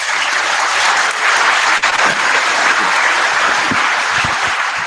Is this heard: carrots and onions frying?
no